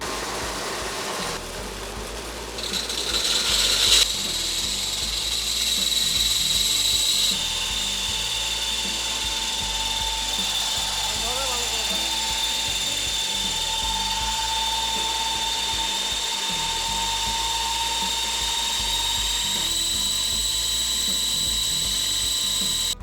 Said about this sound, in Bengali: চলুন আগে এই মেশিনটা চালিয়ে দেখি যে আসলে কেমন ময়দা হচ্ছে এবং কেমন ভুসি হচ্ছে